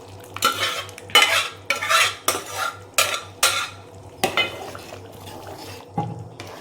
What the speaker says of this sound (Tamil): நல்லா மிக்ஸ் பண்ணி கொடுங்க.